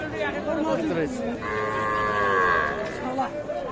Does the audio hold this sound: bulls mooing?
yes